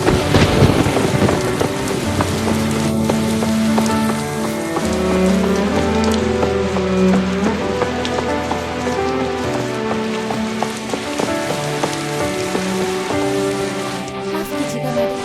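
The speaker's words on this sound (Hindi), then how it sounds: "संभल के जाइए, काफी बारिश हो रही है।" Heavy rain pours steadily and loudly throughout, mixed with layered music in a dramatic scene.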